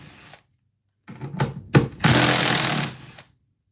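An impact driver hammers out Loctite-secured bolts during an EV battery pack teardown, with short bursts followed by a longer, loud, rattling run of impacts close by.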